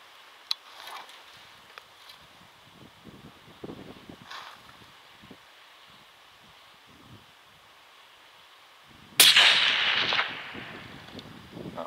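A single loud 7mm rifle shot at a roe deer on a snowy Scottish hillside, one sharp crack with a short rolling tail after quiet rustling outdoor ambience.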